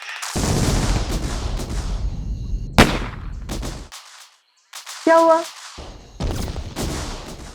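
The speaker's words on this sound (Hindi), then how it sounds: "पटाखे फोड़ रहे हैं, जश्न मना रहे हैं" Firecrackers burst in sharp, loud cracks outdoors during a celebration in a TV crime drama, with a few separate bangs and rapid pops spread through the clip, broken by a short silence, and a voice speaking briefly between them.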